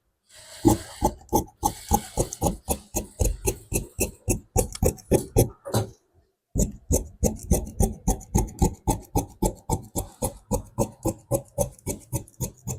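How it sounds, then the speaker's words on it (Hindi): Scissors cutting kurta fabric for men's kurta tailoring, a close, rapid run of rhythmic rasping snips with a brief pause near the middle, no talk. "अब मैं फर्स्ट कटिंग कर लेता हूं"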